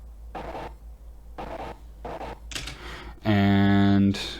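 Dog panting processed to sound gritty: rough breathy bursts in a repeating rhythm, then a loud buzzy distorted tone near the end.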